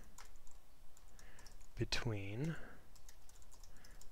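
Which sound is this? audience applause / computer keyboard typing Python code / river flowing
computer keyboard typing Python code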